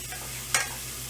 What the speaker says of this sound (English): a little sizzle to them now